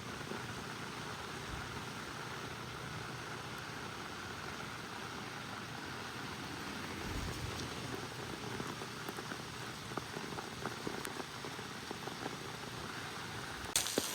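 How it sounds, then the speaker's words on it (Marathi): Heavy rain pours steadily and densely all around, a constant hiss of drops with occasional louder splashes near the end, and no voices. "खूप जास्त पाऊस चालू आहे, तुम्ही कॅमेऱ्यात बघू शकता."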